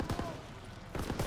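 Gunfire in the World War II shooter game Call of Duty: WWII, with rattling bursts of rapid shots at the start and again near the end, steady battle noise between, loud and close.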